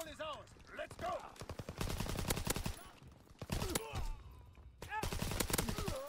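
Sten submachine gun in a World War II shooter game, fired in rapid sustained bursts separated by short pauses, loud and close, with other gunfire and game noise mixed in.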